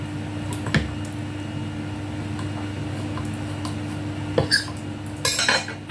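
A knife cuts the rind off a block of Swiss cheese on a board, giving sparse, close clicks and taps against a quiet kitchen background, with a louder cluster of knocks near the end.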